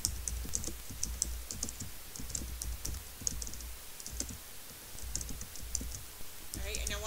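Computer keyboard typing in quick irregular bursts of clicks, fairly close, running the whole time with only brief pauses, over a low steady room hum.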